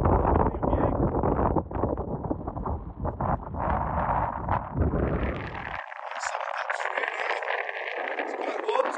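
Wind buffets a camera microphone outdoors on a coastal dog walk, a heavy low rumbling roar with gusty fluctuations that drops away after a few seconds to a thinner airy rush, continuous and close throughout.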